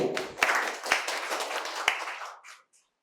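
Brief burst of applause from an audience at a medical college quiz competition in Santiniketan, a few sharp claps standing out before the clapping fades away to silence.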